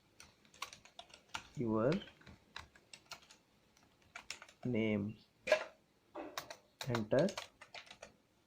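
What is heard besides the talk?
typing on a computer keyboard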